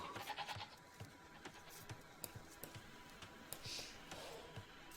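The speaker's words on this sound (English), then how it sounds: "A little bit unfortunate with the sheep butchering here for Astro" Faint sheep bleats from a game mixed with soft clicks and ticking sounds, quiet and intermittent, no voices.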